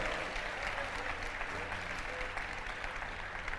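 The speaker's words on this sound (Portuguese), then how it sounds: "Se você vai se encontrar com Jesus, você pode aplaudir o Senhor" A church congregation at a worship service claps without pause in a dense, steady patter that holds through the whole stretch, with a few faint voices under it.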